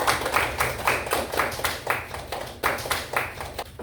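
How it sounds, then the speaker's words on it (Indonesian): A small classroom group claps for group 2 after a pharmacy-school presentation on medicine storage, a few people's hands striking in an uneven, moderately close patter of bursts that continues for several seconds without speech. "tepuk tangan untuk kelompok 2"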